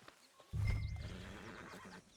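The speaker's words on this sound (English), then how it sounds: "But I do kind of like this horse." A horse in Red Dead Redemption 2 gives a loud close whinny after a brief quiet lead-in, then a fluttering snort-like tail as game ambience continues softly behind it.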